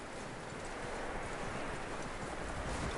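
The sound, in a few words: horse hooves clip-clop in the video game Red Dead Redemption 2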